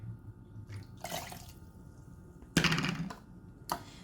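Water is poured into a mix of rosé while a drink is being made, heard as a few short, faint splashing bursts separated by quiet pauses, with a louder splash near the middle.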